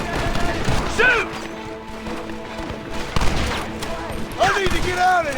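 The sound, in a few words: gunfire in the video game Red Dead Redemption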